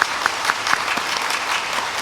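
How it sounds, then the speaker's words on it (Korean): A church congregation applauds during a Sunday service to welcome newly registered members, a steady dense wash of many hands clapping at full volume throughout. "우리 큰 박수로 함께 환영하겠습니다"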